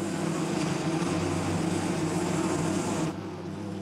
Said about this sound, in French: la reine ramène les abeilles dans la ruche.